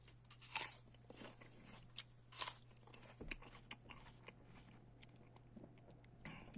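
A crisp, juicy Red Jonaprince apple is bitten, giving a couple of sharp crunches near the mic, followed by quieter chewing against faint background hum.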